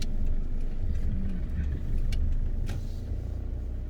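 A motorcycle engine gives a loud, steady low rumble that runs throughout with little change, with no voices over it.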